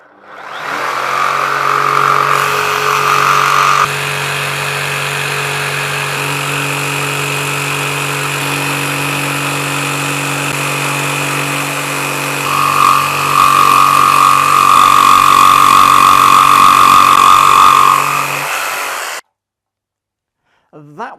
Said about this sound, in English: I've got my crappy jigsaw out, so I'm not very happy about using this jigsaw